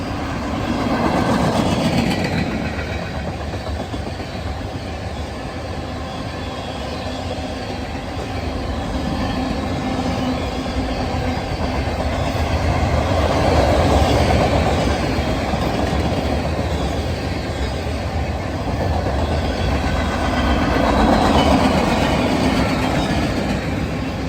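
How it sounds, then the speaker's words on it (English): Long freight train rolling steadily past at close range with a mid-train helper locomotive, continuous wheel rumble and clickety-clack with rising and falling swells of rail noise and occasional squeal, no talking. "I'm going to let the whole train run for posterity."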